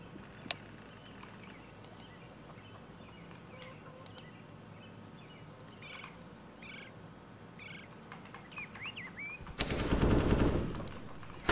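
Counter-Strike: Global Offensive gameplay carries quiet in-game ambience with faint clicks and chirps, then a loud burst of rapid automatic gunfire near the end, with no talk.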